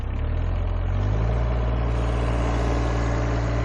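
A used mini excavator's diesel engine runs steadily at high revs, loud and close, with a constant deep throbbing hum that never lets up.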